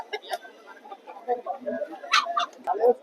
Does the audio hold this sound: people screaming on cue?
no